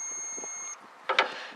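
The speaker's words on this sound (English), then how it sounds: "basically if you set this on continuity, you can hear this beep" A steady high-pitched electronic multimeter continuity beep holds for under a second and cuts off, followed by a couple of brief clicks and rustles nearby.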